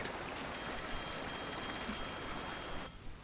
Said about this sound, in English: Oh, the phone. Phone is ringing.